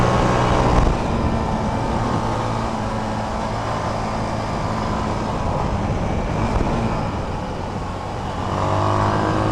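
An SWM Outlaw 500 single-cylinder motorcycle runs steadily while being ridden, a continuous close engine drone with wind and road roar, rising slightly near the end; no talking.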